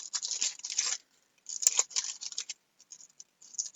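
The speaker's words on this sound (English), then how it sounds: "I can't seem to rip open right now." Someone struggles to tear open the plastic wrapper of a Topps baseball card pack, making close crinkling and ripping bursts in short spurts with brief pauses between them, and no talking.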